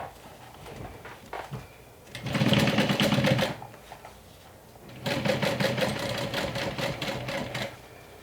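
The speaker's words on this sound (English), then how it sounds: "So you're going to stitch this down with a 3/8 of an inch seam allowance." Sewing machine stitching a 3/8-inch seam on a convertible handbag-backpack, running in two steady bursts of rapid needle clatter separated by a short pause, close and fairly loud with no talking.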